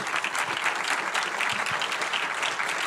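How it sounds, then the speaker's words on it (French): Audience applause for filmmaker Abel Ferry at the close of a masterclass, a short burst of steady, fairly even clapping from a crowd. "Merci beaucoup Abel, on peut t'applaudir bien fort."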